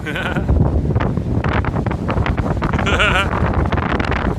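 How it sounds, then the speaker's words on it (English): Strong, constant wind batters the microphone on the Vancouver Seawall on a sunny day, a loud rumbling roar with gusty surges, while voices speak and bleat-like tones cut through in brief bursts. "The wind here is atrocious."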